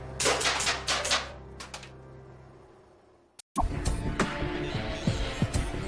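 Rapid film-style gunfire bursts sounding loud and close at the start, then fading into a low hum, cutting to silence, and returning as a dense, continuous wash of machine noise with sharp cracks.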